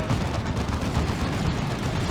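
Side cannon gunfire from a Dawn of War 2 Retribution match, a dense continuous roar of rapid shots filling the whole moment, loud and sustained with no talk over it.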